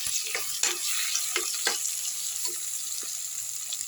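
Onion, mango and turmeric sauté in a pressure cooker with a soft, steady sizzle and a few faint scraping stirs.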